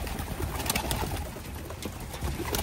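Racing pigeons cooing at an open-loft race in Capistrano, several soft, rhythmic throaty coos overlapping close by over flapping and scuffling in the loft, with no voices.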